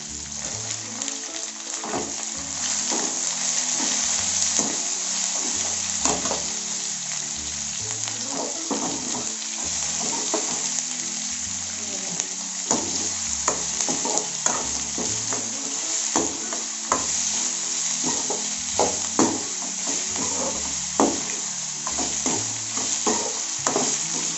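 Onions fry in oil with ginger garlic paste for an idli vadakari, making a steady close sizzle punctuated by frequent rhythmic stirring scrapes and clinks of the spoon against the pan.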